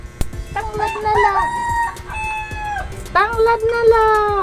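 A rooster crows twice at close range, each crow a loud, drawn-out call separated by a short pause, with faint voices in the background.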